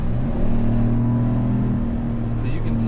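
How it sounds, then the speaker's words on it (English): A GMC Sierra pickup with its 6.2L V8 in sport mode accelerates, giving a steady, loud, deep exhaust drone from inside the truck that holds at one level for a few seconds. "how much louder the exhaust is"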